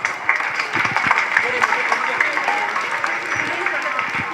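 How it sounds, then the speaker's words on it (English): Steady broadband clatter of a crowd applauding at a school kindergarten event, sustained and fairly even throughout, with some voices mixed in. "encourage our kids by giving a huge round of applause"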